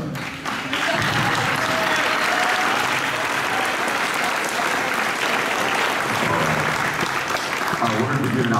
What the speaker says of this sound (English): we'll give you a round of applause also